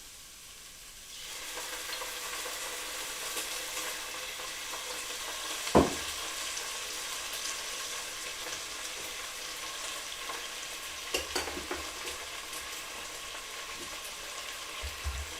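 Balsamic vinegar hits a hot pan and bursts into a sustained sizzle, with occasional sharp scrapes and clicks of stirring over the steady hiss.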